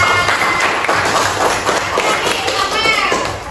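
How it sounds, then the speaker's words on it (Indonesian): Children in a classroom clap in a busy, lively burst with loud kids' chatter and movement throughout, the noise easing slightly at the end. "kasih tepuk tangan dulu kelas A"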